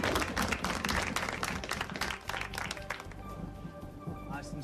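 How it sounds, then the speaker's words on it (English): An audience at a magic show claps for a magician, a burst of fairly distant applause that thins out midway while background music continues. "Let's give him a big round of applause"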